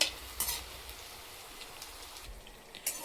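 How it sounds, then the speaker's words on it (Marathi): Potato and pea nuggets deep fry in oil over a medium gas flame. A quiet, crackly bubbling runs throughout, broken by a few sharper pops and spatters near the start and end. "नगेट्स आपण आता मीडियम गॅसवर तळतोय।"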